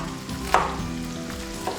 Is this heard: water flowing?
no